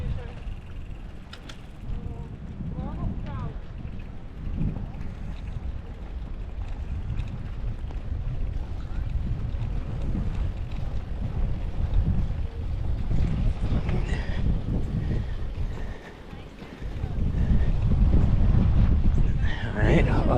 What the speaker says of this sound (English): It's going to be breezy.